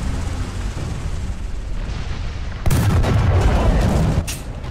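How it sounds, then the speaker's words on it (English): Incoming artillery shells crash down in War Thunder around an M103 heavy tank in an Eastern Europe battle, a heavy booming impact at about the midpoint followed by rumbling blasts over steady engine noise. "Artillery. Yep, here it comes."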